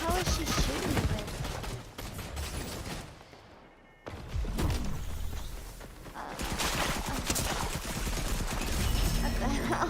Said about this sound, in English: What the hell is she shooting me with?